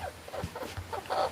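A chicken clucks a few times softly, close by, against faint background noise.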